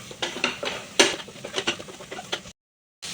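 Spoon scrapes and clatters against a pot while masala for a Sunday beef curry is stirred, a run of close, uneven scraping strokes with one sharp clank, then a brief silence before stirring resumes.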